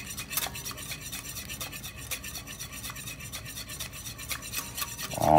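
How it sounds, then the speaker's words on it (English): A whisk beating oil into an emulsion in a bowl, a continuous rapid scraping and rubbing rhythm of metal against the bowl, steady and close, with no voices. "All the time, keep mixing."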